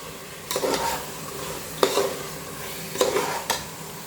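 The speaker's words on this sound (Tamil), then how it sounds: "இப்போது புதினா கொத்தமல்லி போட்டுக்கலாம். போட்டு நல்லா வதக்கலாம்." Mint and coriander leaves sautéed in a pan for chicken biryani, a soft sizzle broken by several sharp stirring scrapes of a spoon against the pan at close range.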